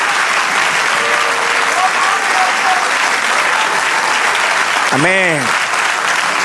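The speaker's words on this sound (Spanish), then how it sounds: "Siga aplaudiendo." A church congregation applauds in a steady, dense wash of clapping throughout, with a voice speaking over it and briefly rising in pitch near the end.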